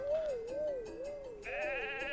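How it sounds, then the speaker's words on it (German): Sheep in the video game Miitopia give a string of wavering, vibrato bleats, one steady cry followed by a brighter, buzzier one, clear and close with no talk. "Guck mal, Schafe."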